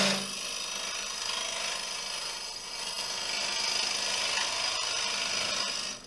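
A turning tool cuts a koa crotch bowl with an undercut rim on a lathe, throwing shavings. The steady, close scraping whir holds for several seconds without pause.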